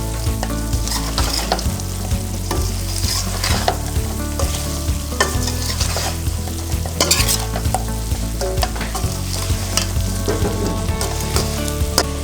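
Fried fish being stirred in a frying pan for pickle, giving a steady loud sizzle with repeated scraping stir strokes and a low constant hum underneath, no talking.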